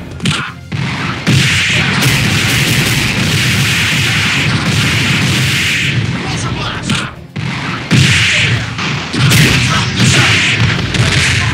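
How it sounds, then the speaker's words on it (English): Iron Man's pulsar blast in a fighting game against Catwoman, a loud, sustained roaring energy burst with heavy booming impacts that runs nearly continuously, briefly cutting out twice, mixed with game effects and voices. "Pulsar blast!"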